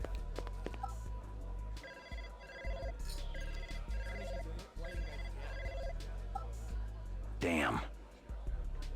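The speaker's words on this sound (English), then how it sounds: "It said there's a vid phone you can interact with and no one will ever answer." A vid phone in the Blade Runner PC game rings with a repeating electronic tone pattern over steady game ambience and muffled background sound, with a louder burst near the end.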